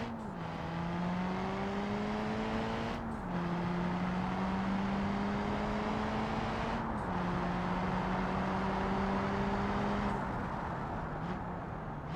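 Car launching from a standstill in the video game BeamNG.drive with launch control, engine revving hard and climbing through several gear shifts, a loud steady drone rising in pitch between each change.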